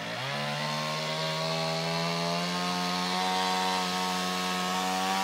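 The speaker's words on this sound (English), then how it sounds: "clearing with the chainsaw." Chainsaw running steadily while clearing on a property with fruit trees, a loud close buzzing drone whose pitch climbs briefly at the start, then holds even and continuous under load.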